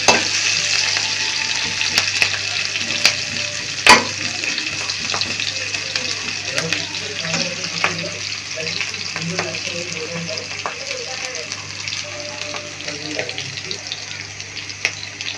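Tular dandi fish sizzling as it fries in a pan for bhuna while being stirred, a steady close frying hiss with scattered clicks and scrapes of the spatula throughout.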